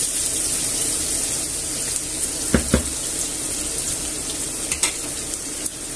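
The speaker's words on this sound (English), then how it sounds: "fry the onion and the garlic" Onion and garlic fry in a pot with a steady, close sizzling hiss, broken by a few sharp clinks of a utensil, and no voices.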